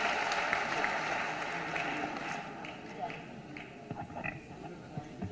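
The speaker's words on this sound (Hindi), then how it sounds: "फिर से ताली बजा के स्वागत कीजिए।" An audience at a natural-farming workshop in Bhopal claps to welcome the governor of Madhya Pradesh, a fairly quiet spell of applause that fades as a voice speaks over it.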